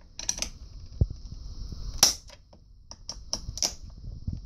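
Small screws on a Denali surf fin crack loose, heard close and fairly quiet as a few sharp, brief metallic clicks and snaps with light handling noise between them.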